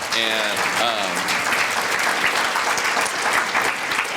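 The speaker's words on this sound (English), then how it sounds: "Let's give them a big round of applause again." An audience at a children's summit gives sustained applause, a dense, even wash of clapping filling the room from start to finish, with a voice briefly audible over it at the start.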